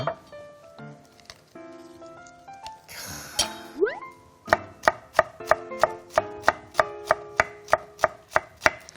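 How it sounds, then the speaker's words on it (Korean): A knife finely julienning vegetables on a cutting board, beginning with scattered clinks and a brief rustle, then settling into a steady, crisp rhythm of sharp chops, roughly two per second, close and clear. "최대한 비슷한 식감이 날 수 있도록 곱게 채를 썰어주세요"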